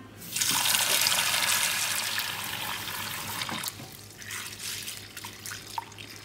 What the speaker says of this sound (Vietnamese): bây giờ em sẽ cho đậu và gạo lứt ra một cái tô lớn để mình đi ngâm mình sẽ vo rửa thật sạch trước khi ngâm